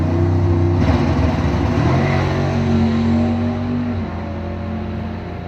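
A 1990 Beretta GT makes a drag racing run at a Bowtie Challenge event, engine roaring hard through rising revs and a gear change before the sound eases off as the car pulls away.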